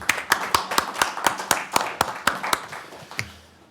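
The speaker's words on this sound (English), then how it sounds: "let's give a round of applause to Derek" Around a dozen sharp, evenly spaced hand claps from a small group of attendees at a board meeting, close and distinct, fading out near the end.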